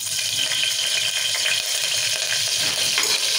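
Green chillies hit hot oil in a pan for a mutton paya curry, giving a steady, bright crackling sizzle that runs without pause, close and fairly loud.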